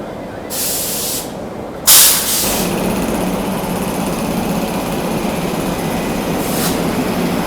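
A train pulls out of an Indian station on the AP Express route between Nagpur and Delhi, with a loud continuous rumble and rushing noise, a short sharp hiss of air brakes, and a few brief bursts of hissing.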